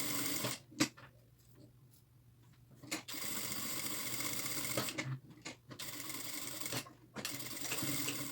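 A sewing machine stitches a fabric placemat tab in several bursts of rapid whirring separated by short pauses, close and clear, with no voices.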